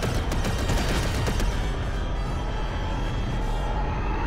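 Blaster fire in Lego Star Wars: The Skywalker Saga, a dense, continuous barrage of rapid shots over a loud, roaring, constant game din with no gaps.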